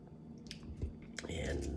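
Someone takes bites of kimchi instant noodles with cilantro, chewing close to the mic in quiet, wet mouthfuls. A few soft crunchy bursts sit over faint background noise.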